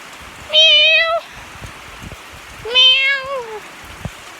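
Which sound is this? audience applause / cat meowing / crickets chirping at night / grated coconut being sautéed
cat meowing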